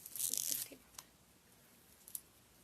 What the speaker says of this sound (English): Taking my tape off.